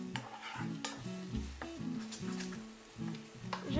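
Shiitake mushrooms sautéing in butter in a pan, a soft continuous sizzle with occasional stirring clinks, fairly faint, with no talking.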